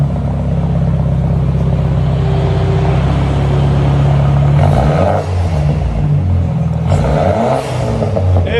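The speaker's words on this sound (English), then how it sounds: "That's how you straight pipe them." A 2013 BMW 328xi with a turbo and straight-piped exhaust revs loudly up close, a deep droning idle climbing into throaty rising and falling revs with turbo whoosh, no voices.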